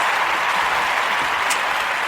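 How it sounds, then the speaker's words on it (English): A dense, loud wash of clapping and cheering from a party crowd at a Super Bowl gathering, steady and continuous throughout with no pauses. "The crowd is losing it right now over the trick."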